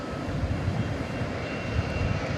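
Steady, loud engine rumble from a Bombardier Global 5000 business jet at DFW Airport at night, a continuous broadband roar with no talking.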